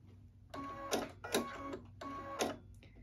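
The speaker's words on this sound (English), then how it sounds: "I'm going to edge stitch it right here. And I'm just going to leave that zipper foot in there and go ahead and edge stitch this." Sewing machine edge stitching with a zipper foot, running in three or four short bursts of rapid mechanical stitching, close and clear with no talk.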